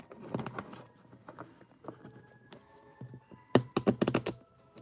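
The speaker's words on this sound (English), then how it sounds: "Oh, that wasn't a very good shuffle." Playing cards are shuffled close up in bursts of quick riffling taps and clicks, with pauses between, ending in a fast flurry.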